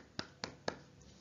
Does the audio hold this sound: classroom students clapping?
yes